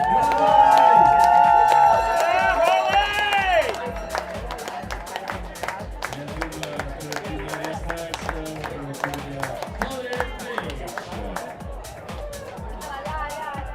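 Trail-race finish crowd cheering and clapping for a runner at the UTMB Mont-Blanc event, a dense roar with scattered claps, loudest at first and then settling into steady applause under an announcer's talk.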